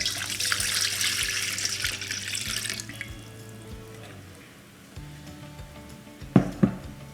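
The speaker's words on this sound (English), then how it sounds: "You want to make it warm water, so we'll go ahead and just pour all that in there" Warm water poured into a bowl for homemade pizza dough, a steady rushing splash for about three seconds, then quieter trickles and a couple of sharper knocks near the end, with no talking.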